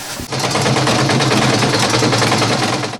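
A sewing machine runs steadily, stitching soft, non-bulky seams on items sewn by volunteers for wounded soldiers; a close, continuous mechanical whir and hum lasts about three seconds after a brief start.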